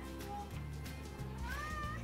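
A cat in heat gives a drawn-out meow, faint at first and then a clearer rising wail near the end, over low background rumble.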